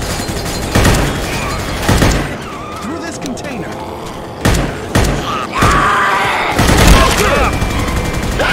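Loud, close gunfire in Left 4 Dead 2, with sharp repeated shots and bursts spaced across the scene amid game effects and characters talking.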